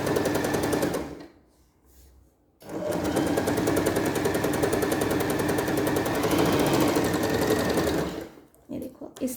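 A sewing machine stitches a trouser hem in rapid steady bursts, loud and close, pausing briefly before running again for several seconds, then stopping with a few short stitches at the end.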